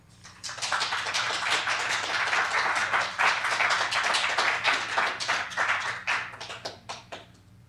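Sustained audience applause at a 1997 Bayview poetry recital in the San Francisco Public Library, following a reading: dense, steady hand clapping from a room of listeners lasting several seconds before thinning out at the end.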